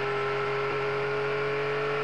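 A Group 44 Jaguar XJR5 race car roars steadily past at speed, a loud, sustained engine drone with a continuous whirring tone and no break across the pass.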